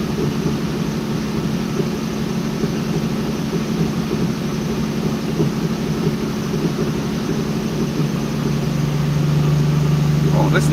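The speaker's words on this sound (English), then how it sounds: "I added timing to it and the whole engine changed tone dramatically." A Corvette engine runs steadily on a dyno after its timing is advanced, a continuous low droning hum under a broad roar, with the pitch shifting and the sound growing slightly louder near the end.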